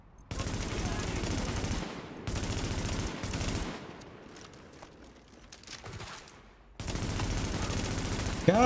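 Rapid automatic gunfire from The Division rattles out in several sustained bursts separated by quieter gaps, loud and close.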